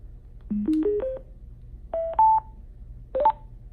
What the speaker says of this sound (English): Let's just go ahead and turn it on and see if it still works